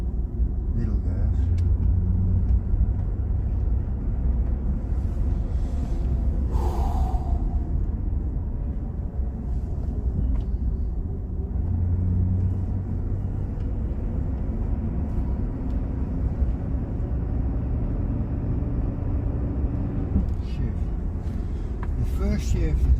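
A Mercedes W126 car driven at light throttle produces a low, steady engine rumble with road noise, heard from inside the cabin and quite subdued, with no talk over it.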